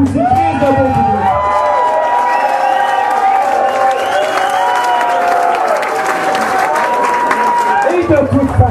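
A rock concert crowd for a band in Quebec claps and cheers loudly, with sustained applause and whoops, while a voice speaks over the noise through a PA near the end.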